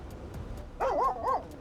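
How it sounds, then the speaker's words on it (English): A dog named Goose barks in a GTA roleplay game: faint soft sounds at first, then two short, sharp barks close by, with a quiet background. "Who you barking at, me or Nino?"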